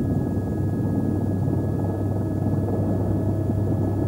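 Steady low rumbling drone of a helicopter over the 2000 Rally Australia, constant and unbroken throughout, with no voices.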